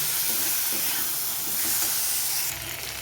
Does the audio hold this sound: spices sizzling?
yes